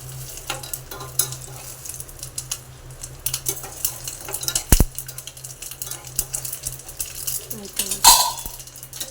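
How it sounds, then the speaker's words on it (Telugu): Tempering spices for a sour greens curry sizzle and fry in a hot pan at home, a steady close crackle with occasional clinks of a utensil and a brief bump, faint voices in the background. "పోపు ఏమో వేడెక్కుతుంది. వేగిన తర్వాత అందులో వేసేస్తే రెడీ అయిపోతుంది."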